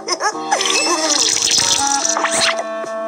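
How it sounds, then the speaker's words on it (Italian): Liquid pours and splashes steadily in a cartoon scene, a bubbling, gurgling stream running for a few seconds, close and fairly loud. "adesso non mi resta che versare il liquido."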